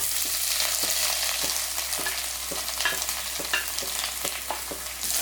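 Broccoli dropped into a hot frying pan with curry leaves sizzles steadily, a dense close crackle with light stirring clicks scattered throughout, no voices.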